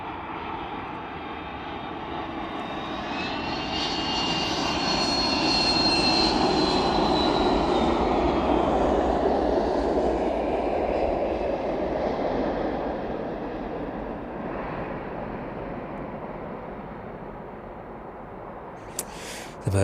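Maersk cargo aircraft arriving from Belfast at East Midlands Airport in the evening, its loud engine roar swelling over several seconds and then slowly fading, with no voices.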